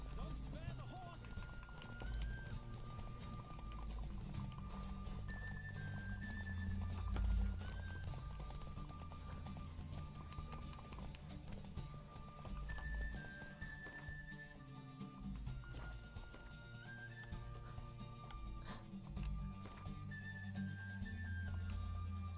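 A horse gallops in The Witcher 3, its hoofbeats drumming in a steady rapid rhythm under game music throughout, with a person talking over it.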